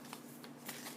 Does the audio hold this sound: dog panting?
no